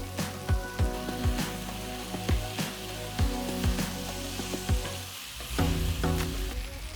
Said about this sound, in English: Now I put garlic chives in the pan, just hard sections. Now I put in the noodle.